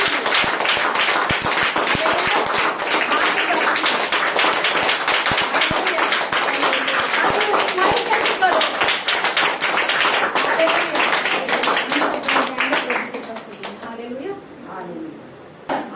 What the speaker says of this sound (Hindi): एक जोरदार ताली प्रभु